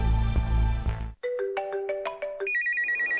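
Mobile phone ringtone for an incoming call: a short burst of music cuts off, then a bright electronic melody of stepped tones plays loud and clear, followed by a rapid warbling trill.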